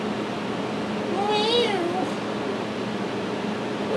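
A short, wavering cat meow rises briefly over a steady background hum, with faint talk nearby.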